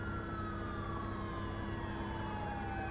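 Emergency vehicle sirens wail steadily in the Driver San Francisco video game, their tones sweeping slowly downward over a constant dense rumble of traffic and engines, loud and continuous with no talking.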